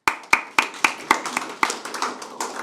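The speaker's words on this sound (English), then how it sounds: "Let's give him another round of applause." Conference audience clapping at a business forum on green energy and digital technology, heard as a short run of distinct, sharp, fairly close claps in an uneven rhythm rather than a dense crowd wash, fading after under three seconds.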